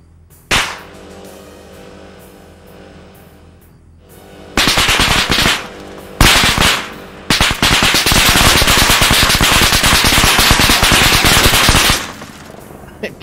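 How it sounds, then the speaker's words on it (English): Machine gun fire in the combat video game Arma 3, with a sharp opening shot followed by long, loud sustained automatic bursts broken by brief pauses, then cutting off near the end. "Totally just shooting your gun."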